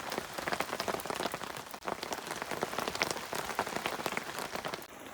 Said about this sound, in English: we have a good steady rain now